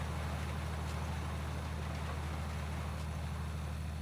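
A Massey Ferguson tractor in Farming Simulator 19 runs its Perkins 8.9-litre eight-cylinder diesel, with a steady low idling rumble and drone throughout and no change in pitch.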